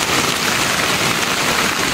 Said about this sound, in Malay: Hujan lagi guys